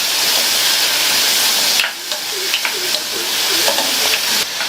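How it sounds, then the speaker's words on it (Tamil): Onion, garlic and slit green chilies sauté in hot oil for a kulambu, a steady loud sizzle broken by scraping stirs and small crackles, with no talk. "அடுத்து 2 கீறின பச்சை மிளகாய், எல்லாத்தையும் நல்லா எண்ணெயிலேயே 1 நிமிஷத்துக்கு வதக்கி விட்டுக்கலாம்"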